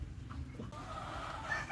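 Tethered fighting roosters cluck and stir on a farm, soft and somewhat distant, over steady low background rumble with no talk.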